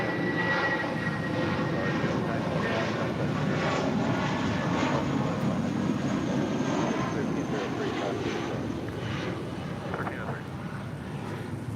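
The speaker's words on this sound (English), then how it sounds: "This is Volaris flight 5921 departing to Morelia on an A320." A Volaris Airbus A320 jet departs LAX for Morelia with a loud, continuous engine roar that holds steady throughout, while voices talk faintly underneath.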